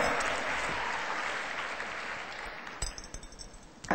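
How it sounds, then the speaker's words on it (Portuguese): Applause from a church congregation, a steady broadband clatter of many hands that thins out toward the end, with a few louder isolated claps near the close. "Foi um homem que puxou o aplauso."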